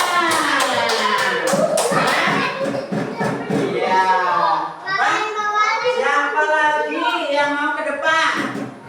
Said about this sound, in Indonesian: Pindah tepuk tangan.